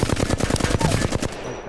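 Flatline rifle from Apex Legends firing a rapid full-auto burst of about a dozen loud, evenly spaced shots with a punchy, close sound, ending in a short tail.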